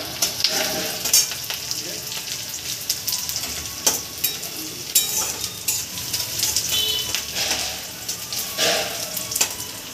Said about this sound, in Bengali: পেঁয়াজ একটু লাল লাল করে ভেজে তারপর দিয়ে দেবো আমি